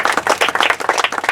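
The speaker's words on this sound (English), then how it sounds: "Clap, yeah." Applause and clapping from a crowd at an under-12 cricket cup grand final, a dense burst of hand claps lasting about a second, fairly loud and close, without talk.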